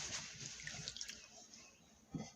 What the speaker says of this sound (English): we rinse it off, take it, rinse the soap off of it,